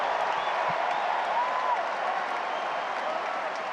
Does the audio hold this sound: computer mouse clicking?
no